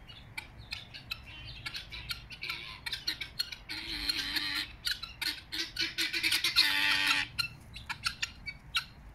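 Pigeons being let out in a garden give harsh, repeated squawking calls with bursts of louder flapping and scuffling, close and busy, with no speech.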